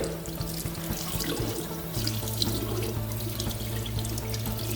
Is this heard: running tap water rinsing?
yes